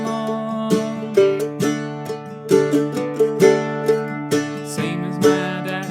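A mandolin plays a riff in a lesson setting: a run of bright plucked notes with ringing harmonics, close and clear, with no voice over it.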